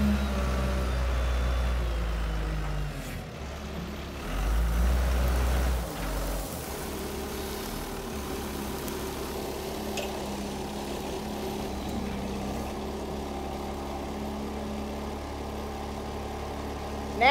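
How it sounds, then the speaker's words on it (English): A loader's heavy diesel engine idles with a low, steady rumble, briefly swelling louder partway through, then settling back to a constant drone. "Got the loader started"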